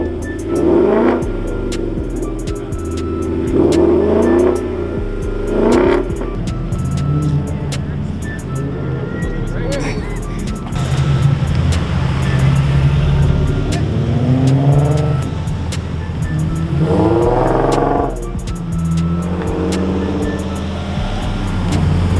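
Police car revving its engine at a car meet: repeated throaty rev surges rise and fall over a steady idle rumble, loud and close, with crowd chatter underneath.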